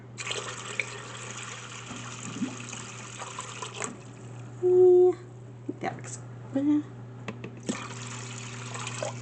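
Water is poured into an Instant Pot for bean soup, a soft running, filling sound over a steady low hum, with a short remark spoken over it.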